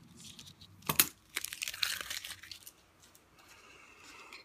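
Small vinyl transfer pieces are peeled up and crumpled by hand in a close, crackly burst of tearing and crinkling, then quieter rustles that fade away.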